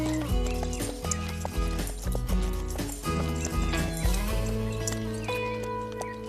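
Horses at a race, with rhythmic clip-clop of hooves, snorting and whinnying over a busy musical backdrop, fairly close and continuous throughout.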